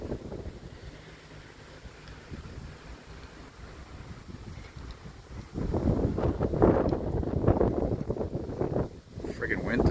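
Gusty wind buffets the microphone at a railway level crossing in Valleyfield, Quebec, a steady low roar that swells louder partway through, with voices talking over it.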